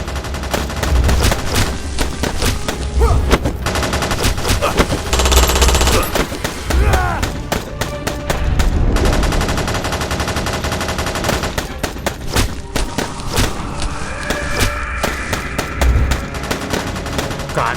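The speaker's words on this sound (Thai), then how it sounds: "เหล่าทหารที่ได้สัญญาณเปิดฉาก ต่างก็พากันระดมยิง" Soldiers unleash a barrage of gunfire, dense rapid machine-gun bursts and overlapping shots filling the whole stretch loudly and continuously, with no letup.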